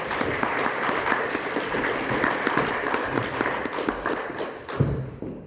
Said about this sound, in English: Give Karen a big clap